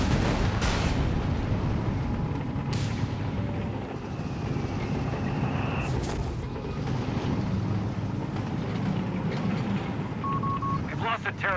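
Intermittent shots and artillery-like booms ring out across a battlefield in the video game Company of Heroes 3, with a quick rattle of fire near the end. Voices and a low rumbling background run beneath them.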